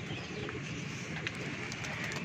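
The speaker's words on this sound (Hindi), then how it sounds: "बड़े दिनों बाद आया कबूतर एक फड़न लिया" A pigeon coos softly at a short distance, low rounded calls over steady outdoor background noise.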